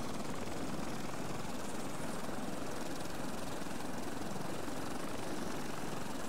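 A helicopter in the survival video game Stranded Deep flies with a dense, constant rotor and engine roar, loud and unbroken throughout with no voices.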